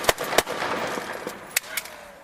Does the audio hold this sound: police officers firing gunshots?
yes